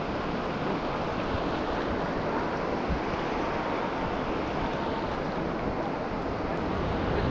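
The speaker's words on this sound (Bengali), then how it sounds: "আমি জলের মধ্যে দাঁড়িয়ে একের পর এক ঢেউয়ের ধাক্কার মজা নিতে থাকলাম।" Sea waves break continuously on the beach at Bakkhali, a steady, dense wash of surf with wind noise, heard close and loud throughout with no talking.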